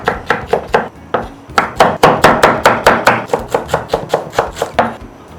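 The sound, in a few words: chopping vegetables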